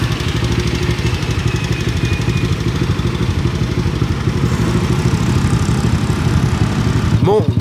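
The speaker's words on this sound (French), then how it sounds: "J'attends mon grab, j'attends ma moto qui devrait arriver bientôt." A Grab motorbike taxi in Thailand rumbles steadily nearby with a continuous low engine drone that holds at idle throughout, ending with a brief rising squeal at the very end.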